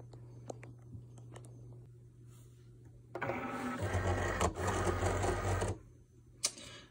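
Cricut cutting machine loading vinyl: a low steady hum with small clicks, then a louder mechanical whirring and rolling feed for about three seconds, stopping with a final click, and no talking.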